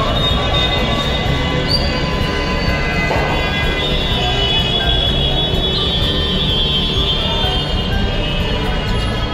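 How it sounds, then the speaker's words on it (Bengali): A Jaipur Metro train runs close by with a steady, loud rumble and faint wheel squeal that fill the whole stretch without a break. "এই যেটা মেট্রো, জয়পুর মেট্রো, একদম কাছে দেখতে পাচ্ছেন।"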